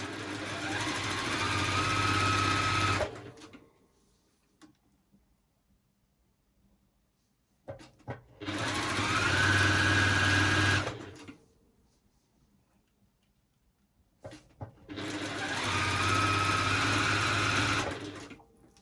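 A sewing machine runs fast in three long bursts of a few seconds each, stitching a straight seam on a fabric ruffle, with quiet pauses and small handling clicks between runs.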